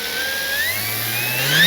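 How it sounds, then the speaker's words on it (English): Electric motor of an FMS Fox 3M RC glider whirring steadily, with a rising tone as the throttle is brought up, close and continuous. "Motor back on."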